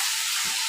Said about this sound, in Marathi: कंटिन्यूअस भाजीला हलवत राहायचं आहे, नाहीतर ही भाजी बुडाला चिटकू शकते